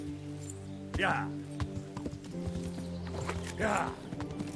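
Horse hooves clip-clop in Kingdom Come: Deliverance, with a few uneven hoofbeats over a steady low game ambience and two brief bursts of whinnying.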